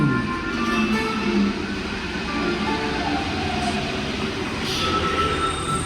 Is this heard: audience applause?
no